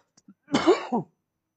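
A single harsh cough, close and loud, preceded by a couple of faint small sounds in an otherwise quiet room.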